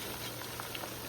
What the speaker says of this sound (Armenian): վերջացնում ենք մսի տապակելը, սա արդեն վերջինն է